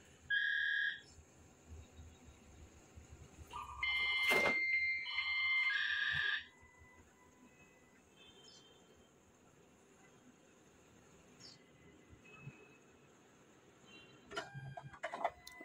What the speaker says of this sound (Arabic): زي ما شايفين الاسكانر ماشي، ده صوت الاسكانر عادي جدا